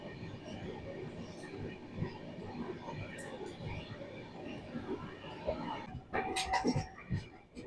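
The 19313 Patna Express passenger train runs on the outskirts of Bhopal with a steady rolling rumble of wheels on rails. Near the end come sharper metallic squeals and clanks, and voices are faintly audible.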